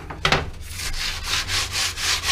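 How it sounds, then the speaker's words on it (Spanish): Sandpaper rasps as it sands paint off a car grille in rhythmic back-and-forth strokes, about six passes, close and fairly loud with no voices. "vamos a empezar ahorita con un pedazo de lija"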